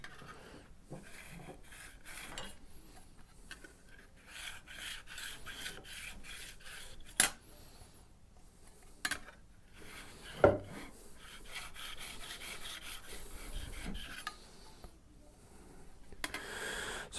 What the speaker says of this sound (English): I'm just going to do a quick sharpening on this.